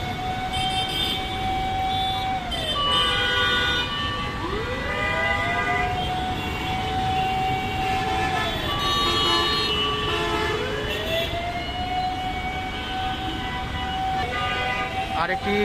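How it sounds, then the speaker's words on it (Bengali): A Dhaka metro rail train pulls into Karwan Bazar station, its electric drive whining in long rising and falling tones that repeat over steady platform noise, with faint voices in the background. "একটা মেট্রো রেল আসছে"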